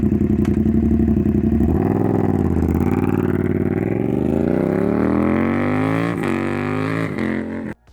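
A BMW F450GS 135-degree parallel-twin motorcycle engine runs with uneven firing intervals, producing a loud, close, scrambled throbbing drone that rises in pitch as it revs before cutting off abruptly.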